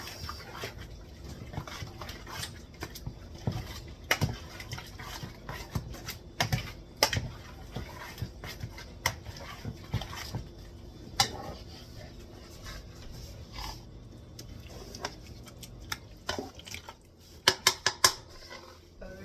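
A utensil stirs chicken Alfredo sauce in a pan, making scattered clinks and scrapes against the metal. A quick burst of sharper taps comes near the end.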